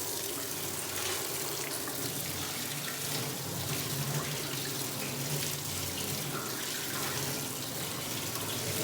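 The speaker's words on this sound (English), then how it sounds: "what I find best is to simply run cold water through filters" Cold tap water runs steadily through split-system air conditioner filters, a continuous close hiss and splash with no pauses.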